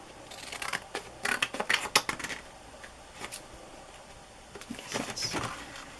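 Scissors snipping through a paper doily to make a journal pocket, bursts of quick crisp cuts close up with short pauses between.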